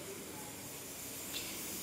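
Dal cooks in a pressure cooker in a home kitchen, giving off a continuous, fairly loud steam hiss that holds steady throughout with no voices over it.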